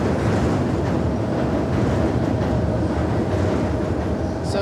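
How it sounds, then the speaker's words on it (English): A train roars continuously overhead on the elevated line above Frankfort Avenue, a dense loud rumble of wheels on rails that stays steady throughout, with no talking. "here we are under the elevated train line above Frankfort Avenue."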